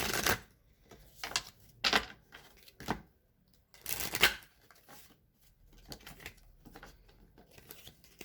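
Belline oracle cards being shuffled by hand in irregular bursts of crisp riffling and flicking, with short pauses in between, close up and fairly quiet with no talking.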